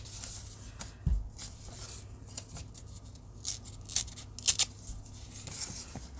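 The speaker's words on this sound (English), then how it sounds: "Okay, we're just going to keep tearing. Just keep tearing." Paper is torn by hand for a journal: a run of crisp ripping bursts and rustles, close and fairly quiet, with the louder tears bunched toward the end, and no talking.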